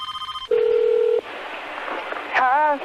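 Touch-tone telephone dialing beeps during a 911 call, followed by a steady held line tone that cuts off, then a brief voice on the line near the end.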